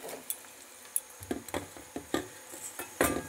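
Capsicum tossed into onions frying in a pan on a gas stove, heard as a quiet run of scattered clinks, taps and scrapes of a utensil against the pan, with no one speaking.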